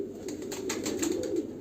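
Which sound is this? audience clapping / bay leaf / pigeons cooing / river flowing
pigeons cooing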